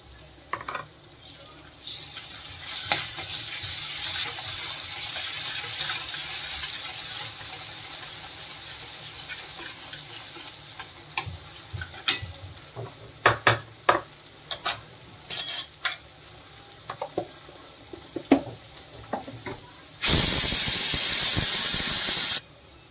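Ginger-garlic paste going into a pan for sev bhaji, with scattered light clicks and clatter of utensils, then a sudden loud, sustained sizzle near the end.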